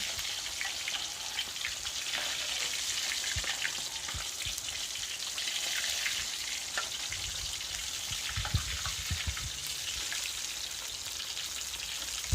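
Fish for a Thai chili-sauce dish fries in hot oil, giving a steady, close, dense sizzle with scattered crackles and pops throughout and no talking.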